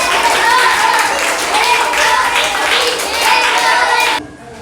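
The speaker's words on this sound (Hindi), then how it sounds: "शीतल कुमारी के लिए एक ताली होना चाहिए।" Classroom applause for a girl student after a correct quiz answer, a dense crowd of children clapping steadily and loudly for about four seconds before cutting off abruptly.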